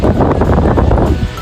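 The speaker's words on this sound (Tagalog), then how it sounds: "Sa lakas po ng hangin." Strong wind blasts outdoors around a backyard hut, a loud, steady roaring rush buffeting close against the microphone throughout.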